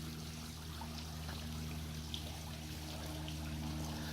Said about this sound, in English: you have your spa, which acts as a hot tub, overflows into the pool